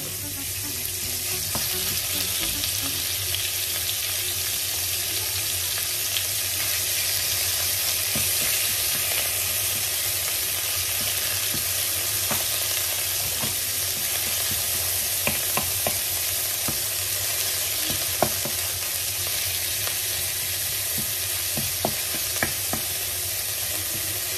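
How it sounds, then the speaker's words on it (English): Minced pork fries in hot oil in a pan, a loud continuous sizzle and crackle lasting throughout, with occasional light scrapes and taps from stirring. "the pan is hot, so we will add our oil, and now we will add our minced pork"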